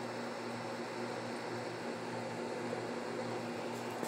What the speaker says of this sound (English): But I can't really hear with the air conditioner on.